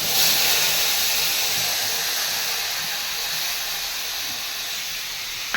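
Ghee sizzling in a pan over lowered heat before frying paneer, a loud steady hiss that fades slightly over several seconds, alone without talk.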